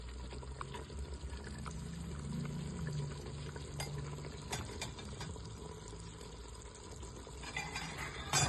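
A cup of water pours steadily into a pot of cooking akawi (oxtail) tagine over a low bubbling, sizzling background, continuous for several seconds with faint clinks of a utensil.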